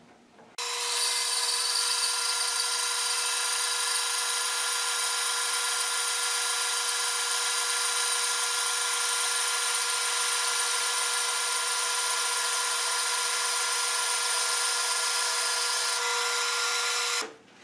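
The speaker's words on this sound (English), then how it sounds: "The blade I'm using here is an 8 teeth per inch rake tooth design blade, and we'll see how that works." A band saw with an 8 TPI rake tooth blade slices through plastic in one long, steady, loud whine that starts abruptly, holds evenly for about sixteen seconds and then stops, with no talking.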